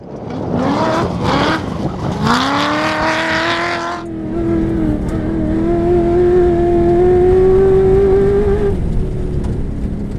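A 650hp V8 off-road racer roars close by as it drives over jumps, its engine revving hard and climbing in pitch, then holding a loud, steady, slowly rising drone.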